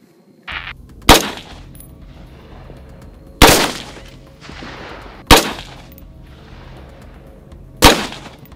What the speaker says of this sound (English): It's one of my favorite guns. The AR-15 or its equivalent.